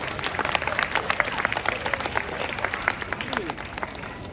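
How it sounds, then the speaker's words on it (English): Audience applause at a seal show starring a seal named Murphy at Taronga Zoo, a dense steady clapping from a sizeable crowd throughout, fairly loud and continuous with scattered individual claps standing out. "Give yourselves and Murphy a big round of applause."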